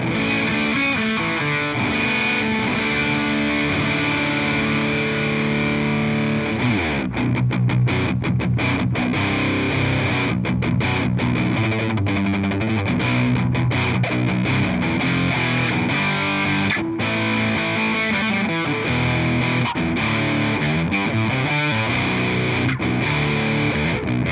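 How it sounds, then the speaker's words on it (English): An electric guitar through an Angry Orange or Boss DS-1 clone distortion pedal, distortion and tone knobs at noon, plays continuously and loudly, thick crunchy chords and riffs with sustained saturated tone, no voices. "let's give a listen to the distortion at noon and the tone at noon"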